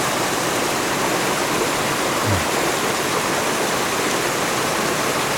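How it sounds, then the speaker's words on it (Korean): Small waterfall about 2 m high beside a rock on a descending mountain trail on Myeongseongsan in Pocheon, a steady, even rush of falling water that stays close and constant throughout with no voices. "저기 바위 우측이 끝으로 여기 폭포가 있습니다"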